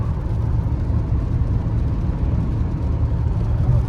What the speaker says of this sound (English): We're now test driving the overvolted ECU, and it is working absolutely flawlessly.